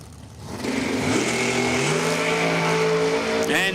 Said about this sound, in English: Little door car versus dragster action here